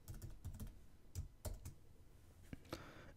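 Keys clatter on a computer keyboard as a password is typed, quick irregular taps close by at low volume with short pauses between strokes.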